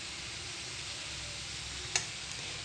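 Egg chow stir-fried in a pan with soy sauce gives off a faint, steady sizzle, and a single sharp tick of a utensil comes partway through.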